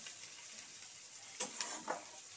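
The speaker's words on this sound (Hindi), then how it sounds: "प्याज करी पत्ता भून रही है एक साथ, प्याज करी पत्ता और सरसों" Onion, curry leaves and mustard seeds fry together in a pan with a faint, steady sizzle, and three short stirring scrapes come near the end.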